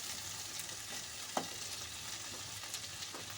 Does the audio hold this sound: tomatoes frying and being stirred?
yes